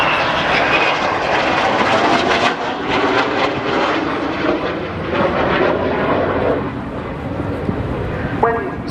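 Harrier jet with APG-65 radar flying at the RIAT 2024 air display, a loud sustained roaring engine drone that shifts slightly as it passes, with a commentator talking over the public address throughout.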